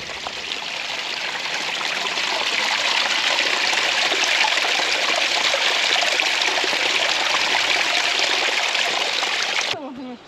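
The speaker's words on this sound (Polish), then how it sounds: "A to strumyczek?" A small stream flows and trickles steadily and close by, a continuous bright rush of water that holds for about ten seconds before cutting off abruptly near the end.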